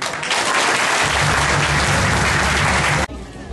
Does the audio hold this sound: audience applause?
yes